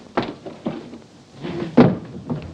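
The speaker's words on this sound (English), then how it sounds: "don't stand there waving the door about" Door being swung back and forth, producing a series of separate knocks and thuds spaced irregularly, with one heavier bang near the end.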